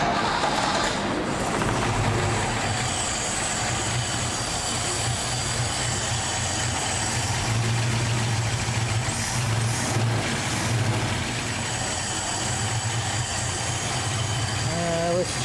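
A 1973 Holden HQ one-tonner engine started and left running: a continuous low, steady idle rumble throughout, with some higher mechanical hiss and a brief rise midway.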